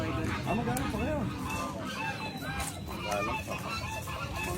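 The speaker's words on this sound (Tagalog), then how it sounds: "Mga gansa imported yan." A flock of imported geese honks repeatedly and close by, the nasal calls overlapping one another without a break.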